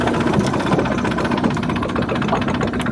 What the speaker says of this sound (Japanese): まあ、とりあえずエンジンはかかったので行ってみようと思います